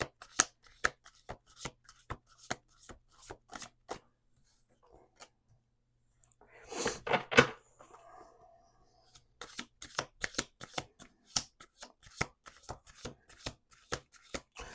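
Cards riffled in quick bursts of crisp ticking slaps, with a louder flurry near the middle and steady quiet snaps before and after.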